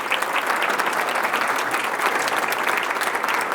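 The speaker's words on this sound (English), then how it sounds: "Let's give them a round of applause." A large audience at a city State of the City address applauds steadily with dense clapping throughout, loud and continuous, with no talking.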